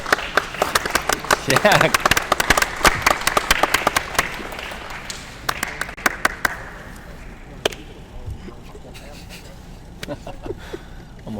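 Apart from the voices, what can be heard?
audience clapping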